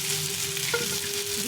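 Mashed pumpkin with turmeric and salt sizzles steadily in a pan, a constant bright frying hiss with a faint steady hum beneath.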